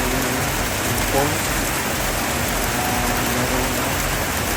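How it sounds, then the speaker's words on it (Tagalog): Heavy rain pours down at an outdoor swimming pool in the Philippines. A dense, steady hiss stays loud and even throughout, with faint voices barely present beneath it. "lakas ng ulan po guys, lakas ng ulan"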